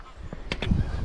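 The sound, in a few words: geese honking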